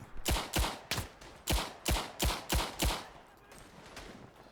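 Rapid sequence of about seven sharp gunshots from a rifle in the First World War shooter Tannenberg, evenly spaced and loud, followed by a quieter tail of ambient battlefield noise.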